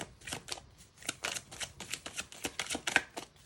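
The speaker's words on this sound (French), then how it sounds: "je vais prendre 6 cartes, comme d'habitude" Tarot cards are shuffled by hand up close, a quick, quiet run of crisp riffling flutters and soft slaps repeating in an uneven rhythm.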